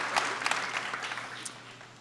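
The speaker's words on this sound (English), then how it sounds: "That deserves a round of applause, yeah." Audience applause at the 2016 Burlington High School graduation ceremony, held in a hot venue: a crowd of many hands clapping steadily and evenly, moderately loud, tapering slightly toward the end with no talking.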